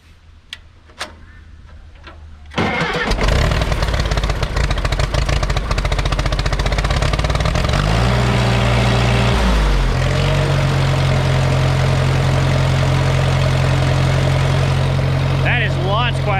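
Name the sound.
Case tractor diesel engine starting and idling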